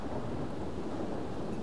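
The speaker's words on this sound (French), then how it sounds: "Ah, il fait que de l'orage" Dense, continuous rumble of a thunderstorm with rain in The Sims 3, steady and enveloping, no voices.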